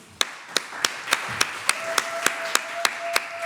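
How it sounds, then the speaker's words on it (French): A small audience at the Case des Arts venue claps, sharp spaced claps with a faint tone running underneath, fairly close and distinct. "est-ce que vous pouvez applaudir pour vous?"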